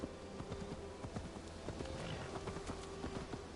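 A horse's hooves clip-clop at a steady walking pace in the Assassin's Creed Valhalla game, rhythmic clear knocks over a low game ambience.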